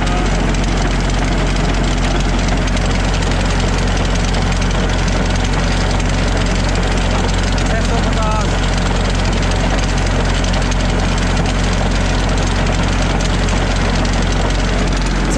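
A 1998 Massey Ferguson 35 tractor engine running steadily close up during a PTO check, a loud, continuous low diesel drone with a constant throb, voices talking faintly underneath.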